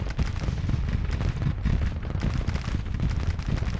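Artillery guns in the Civil War strategy game Grand Tactician fire continuously, giving a dense, rumbling barrage of overlapping booms with no pauses. Loud, with no voices.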